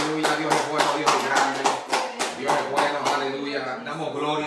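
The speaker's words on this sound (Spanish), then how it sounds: "¿Cuántos se atreven a dar un aplauso al Señor?" A church congregation at a Sunday worship service claps in a steady rhythm, with sharp, evenly spaced beats layered over sustained singing and music.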